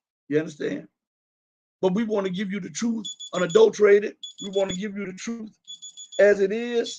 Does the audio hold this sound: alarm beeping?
yes